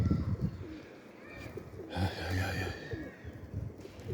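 Soft pigeon cooing close by, a few low rolling calls rising over background rustle and faint outdoor noise.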